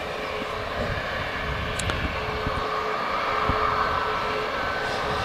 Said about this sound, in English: Air France A380 heading back to Paris Charles de Gaulle Airport. Now lined up and ready to go off runway 23 left.